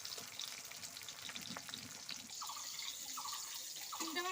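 Flat beans fry lightly in oil, giving a soft, steady sizzle with occasional stirring clatter and faint watery sounds in the background.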